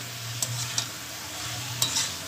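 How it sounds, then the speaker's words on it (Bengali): Spices slowly sautéing in oil for a fish curry with figs, a low steady sizzle with a few light scrapes of a stirring spoon, close by and without talk. "এটা বেশ আমি অনেকক্ষণ ধরেই কষাবো।"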